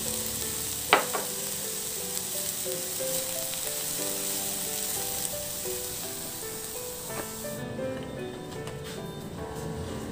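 Shredded cabbage seasoned with salt, pepper and sesame oil cooks in a pan, giving a steady, moderately loud sizzle throughout, with a sharp clink near the start and occasional light stirring scrapes.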